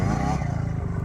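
Motorcycle engine revving loudly and close on an uphill section, a buzzy pulsing drone that drops a little in pitch as it runs.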